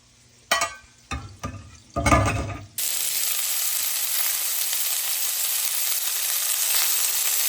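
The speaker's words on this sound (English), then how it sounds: "I like to saute it with onions." Onions are sautéed in a pan for a Cape Verdean dish: a few knocks and clatters from handling the pan, then a loud, steady, close sizzle that holds to the end.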